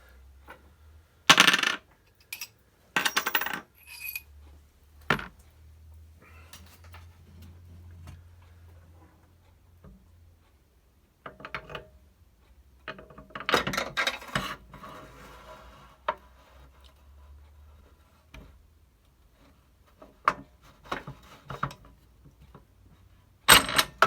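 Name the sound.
motorcycle parts being handled during a dry assembly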